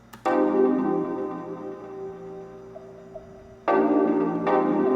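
A music track drenched in Logic Space Designer reverb across the whole mix, with sustained harmonic tones that swell in, thin out midway, then return loud near the end, no voices.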